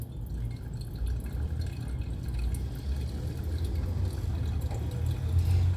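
Coffee percolates as water drips steadily through the grounds, a soft continuous trickle and patter heard close up with no voices.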